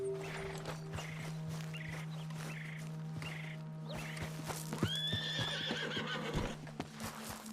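A horse in the Western video game Red Dead Redemption 2 gives a series of whinnies and snorts over soft hoof clip-clops and a steady low ambient hum, fairly close and moderately loud, with no talk.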